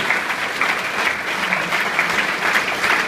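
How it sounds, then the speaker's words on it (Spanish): A church congregation applauds together in a dense, sustained burst of clapping, loud and close, filling the room evenly without pause. "Denle un fuerte aplauso al Señor."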